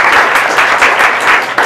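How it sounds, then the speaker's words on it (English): Applause for office holders at a gubernatorial campaign kickoff party in Boulder, a short dense burst of many hands clapping in a crowded room, loud and close. "let's give our office holders in the room a round of applause"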